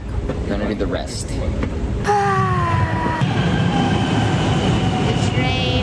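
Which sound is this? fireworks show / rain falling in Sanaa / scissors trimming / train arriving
train arriving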